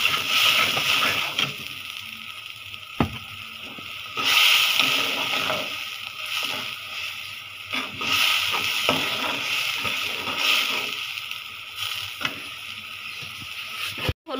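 Water is poured into a pan of softened onions already seasoned with turmeric, chili and salt. Loud, close sizzling hiss comes with sloshing splashes that surge several times, and no one talks.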